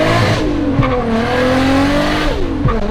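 A four-door Toyota Supra engine revs hard and loud on a dyno, its pitch climbing and dropping in repeated sweeps, with a throaty, continuous roar close by.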